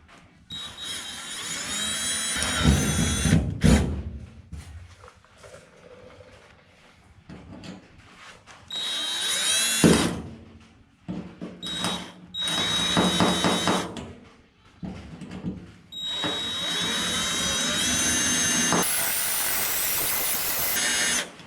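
A power drill with a bit smaller than the screw bores new screw holes in a garage repair, coming as several loud whirring bursts separated by pauses and clunks, close up, with no voice over it.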